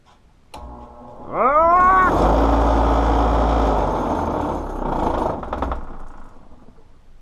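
A wood lathe with a board clamped on it runs at its highest speed: a rising motor whine as it spins up, then a loud, steady rattling roar that eases off slightly toward the end.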